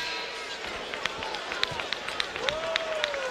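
Crowd noise fills a basketball arena during a 2008 NCAA Sweet Sixteen game between North Carolina and Washington State, a steady roar with sneaker squeaks and ball bounces cutting through.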